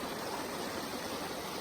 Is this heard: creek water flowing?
yes